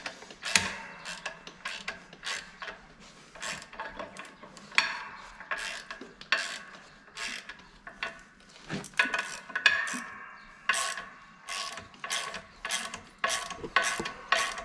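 Clutch bolts are tightened on a John Deere 7520 4WD tractor, with repeated sharp ratchet clicks in quick bursts and pauses, up close, metallic and clean.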